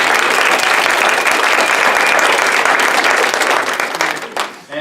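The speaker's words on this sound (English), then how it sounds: "big round of applause for everybody" Audience applause for teacher nominees at a teacher of the year ceremony, dense sustained clapping from a full room that fades out near the end.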